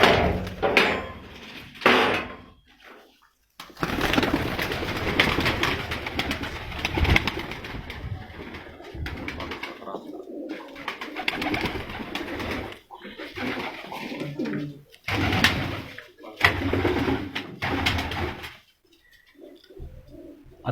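Racing pigeons from Ustad Akmal Khan's loft coo in soft, throaty bursts that come and go with short silent gaps between them, with occasional knocks and shuffling in the background.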